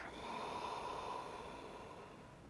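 A slow, soft exhale through the nose during meditation, a breathy airy rush close to the ear that gradually fades over a couple of seconds.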